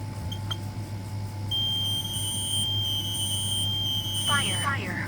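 During a test, a Kidde KN-COPE-IC combination smoke and carbon monoxide alarm gives a short chirp, then a long piercing high-pitched tone over a low background hum, with a synthetic voice alert starting as the tone ends.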